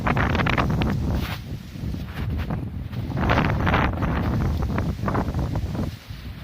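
Strong wind from Cyclone Dana roars steadily throughout, with gusts buffeting the microphone and a rushing of shaken leaves and branches, loud and continuous with no voices.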